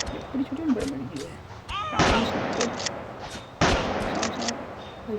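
Gunfire in the Rope Hero video game comes as sharp, loud shots, one near the two-second mark and another later, each followed by a ringing tail over scattered game effects and a rumbling background.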